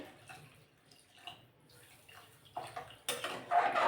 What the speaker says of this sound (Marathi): मी इथं थंडच पाणी टाकणार आहे